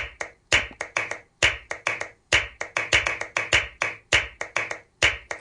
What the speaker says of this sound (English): A typical hand clapping pattern is this one.